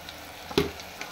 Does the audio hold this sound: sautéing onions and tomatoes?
yes